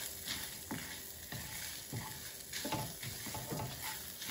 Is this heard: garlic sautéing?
yes